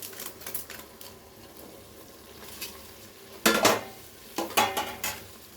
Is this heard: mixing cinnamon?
yes